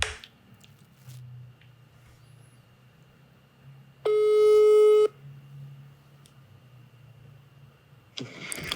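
A single steady phone ringback tone sounds for about a second over a quiet background hum.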